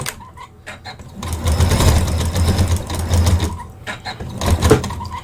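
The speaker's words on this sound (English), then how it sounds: "I'm just going to come through and stitch it straight onto my fabric." Sewing machine stitching straight onto fabric, its steady motor whir running in a few continuous bursts with short pauses between, close and loud with no talking.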